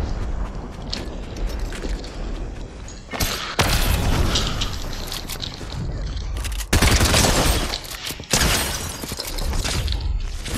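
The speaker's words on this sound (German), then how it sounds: "Ich höre Schüsse." Gunfire and explosions in the Fortnite video game during a tense endgame fight, with dense sustained bursts and several sharp loud booms that break through a busy mix of game noise.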